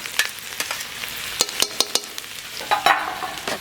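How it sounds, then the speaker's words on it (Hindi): Chopped ginger-garlic paste frying in hot oil in a kadai, a bright continuous sizzle punctuated by sharp spoon taps and scrapes against the pan, close and loud with no one speaking. "इसे कढ़ाई रख दी है और इसमें तेल डाल दिया है। अब डाल देते हैं अदरक और लहसुन का ये"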